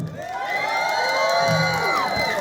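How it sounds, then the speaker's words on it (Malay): An audience at a live showcase performance cheers and whoops loudly, with children's shouts mixed into a dense, continuous crowd roar throughout. "Tepukan gemuruh untuk pelajar suara."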